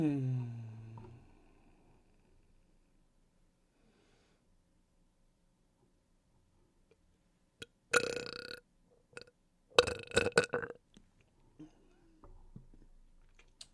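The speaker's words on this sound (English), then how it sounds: "Good burp." A person's burp rings out clearly at the very start, then fades into quiet. Later come a few short mouth noises and breathy sounds.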